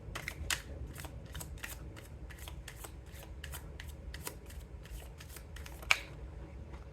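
Tarot cards are shuffled close by in a quiet room: a string of soft, quick riffles and papery flicks repeats about twice a second, with one sharper snap near the end and no talking.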